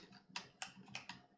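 Keys on a computer keyboard click in a quick, uneven run of about five distinct taps, faint and close, with no voices.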